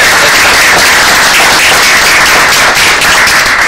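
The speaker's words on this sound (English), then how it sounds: "Callie, if you wouldn't mind standing up so you could get an appropriate round of applause." A room of people at a school board meeting applauds a student, dense continuous clapping from many hands filling the space at a loud, even level throughout.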